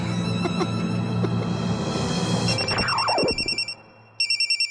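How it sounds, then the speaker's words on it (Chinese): A mobile phone rings loudly with a repeating electronic ringtone over a noisy scene that drops away, leaving the pulsing tone briefly alone, then the ring resumes in short bursts. "谁的电话没有关啊？"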